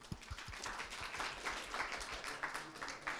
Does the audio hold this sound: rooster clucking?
no